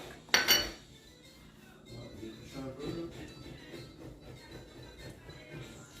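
Fish and sauce are mixed in a dish: a sharp clink of utensil on the dish opens, then soft scraping and stirring noises follow, close and faint, with no talk.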